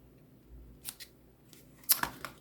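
Scissors trim the edges of a paper Easter card, giving two brief bursts of crisp snipping close to the mic, the second louder and followed by a few quick cuts.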